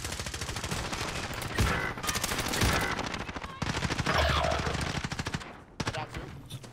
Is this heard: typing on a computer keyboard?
no